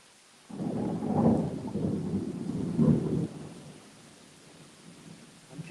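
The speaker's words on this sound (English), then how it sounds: "Oh, there's lightning." Thunder rolling through a lightning storm on a porch: a deep rumble about three seconds long, swelling twice, then fading into a soft rain-like hiss.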